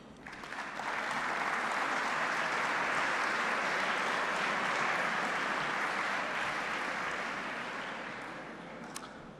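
Sustained audience applause fills an awards ceremony hall, a dense even wash of clapping that swells in, holds steady for several seconds and tapers slightly at the end.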